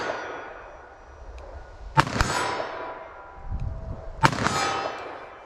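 .357 Magnum revolver with a 4-inch barrel fired outdoors at a target 40 yards away, two sharp loud shots about two seconds apart, each trailing into a ringing echo over a faint background.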